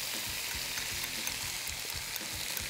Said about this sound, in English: Now, I saute it around. To this beef, I add onions.